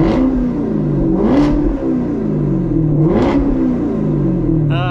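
A car engine revs loudly for a morning wake-up, climbing and falling in repeated pulls with a rough, throaty mid-range drone and no talking.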